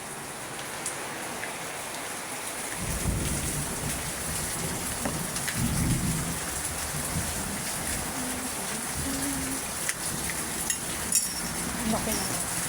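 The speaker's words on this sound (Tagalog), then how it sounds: "3 hours na yung ulan kanina pa." Steady, dense rainfall hisses throughout, with low rumbles swelling in the background and a few sharper taps; no talking stands out.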